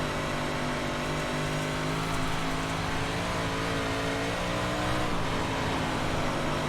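Race-car engine noise from a 358 Modified on the Volusia dirt oval in the iRacing sim, a steady close drone with layered harmonics and slight pitch shifts as the throttle varies, with no talk.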